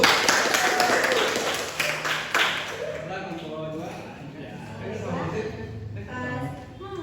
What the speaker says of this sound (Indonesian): beri tepuk tangan untuk nomor satu